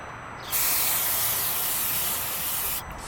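Throttle body cleaner sprayed onto the throttle body of a 2014 Kia Soul: one continuous close hiss of about two seconds that starts and stops abruptly, with no talk.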